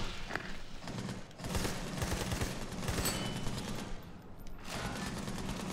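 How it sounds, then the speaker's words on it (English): Sustained gunfire in the video game Army of Two: The Devil's Cartel, rattling bursts and scattered shots layered over a dense, busy battle din at moderate loudness. "They're shooting at me now."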